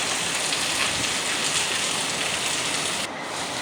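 Steady rain falling outside before dawn, a dense, even hiss of drops on surfaces heard from indoors at moderate distance, continuous throughout with a slight drop in level near the end.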